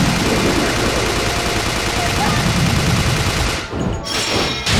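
Dense, continuous gunfire fills a boss fight in the video game Resident Evil Chronicles, loud and close, easing briefly near the end before resuming.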